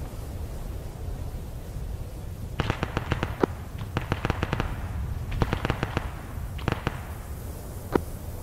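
Artillery fire in Arma 3 lands as clusters of sharp cracks and bursts, coming in several rapid volleys with short gaps between them, set against a steady hiss of background noise.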